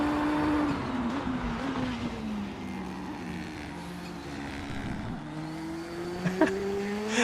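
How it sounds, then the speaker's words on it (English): Race car engine on overrun in the RaceRoom racing game, a raspy, crackling drone with a slowly falling pitch after lifting off the throttle, steady and fairly quiet, with a brief pop near the end. "let's listen to the overrun. That's really interesting, isn't it? It's really raspy kind of noise."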